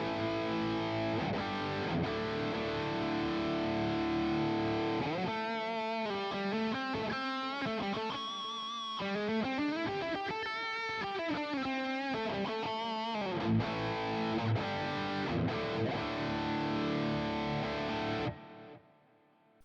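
Heavily distorted electric guitar through a Boss GX10's X High Gain amp model with reverb and delay, playing chugging riffs and sustained chords with a saturated, high-gain tone, loud and continuous before cutting off at the end.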